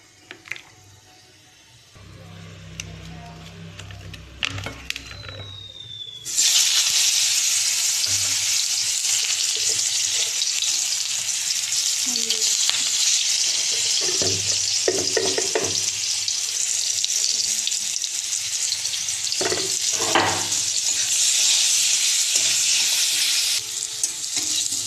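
Green banana pieces fry in hot oil with a loud, steady sizzle that swells and holds close, broken by faint stirring clatter.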